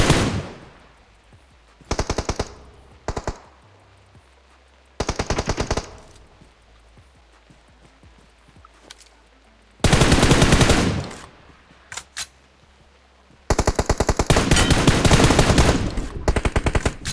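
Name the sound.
gunfire in PUBG Mobile video game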